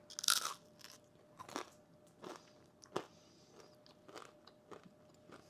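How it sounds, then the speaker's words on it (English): Several sharp crunches close by as a crisp sourdough discard cracker is bitten and chewed, a loud first bite followed by quieter crunching spread over a few seconds. "let me just do one here so you can hear the crunch test"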